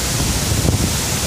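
Strong wind buffets the microphone beside a waterfall, a steady, loud roar with a broad rush of water beneath it and no voices.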